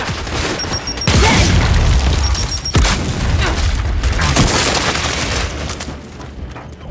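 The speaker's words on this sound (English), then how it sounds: "Throwing grenade!" A grenade explosion in Gears 5, two loud close booms about two seconds apart followed by rumbling debris and further combat noise.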